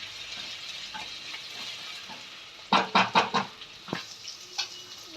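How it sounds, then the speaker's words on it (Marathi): Garlic and curry leaves fry in a pan with a faint steady sizzle, broken midway by a cluster of sharp, loud crackles and spatters that then thin out into occasional pops. "लसूण पण व्यवस्थित भाजून घ्यायचं आहे"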